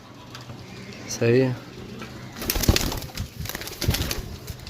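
A golden pigeon among birds offered for sale in Sarai Alamgir gives a short, clear coo at close range, amid flapping and rustling, while someone speaks briefly.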